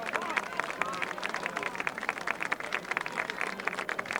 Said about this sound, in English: Nice hand from the crowd here.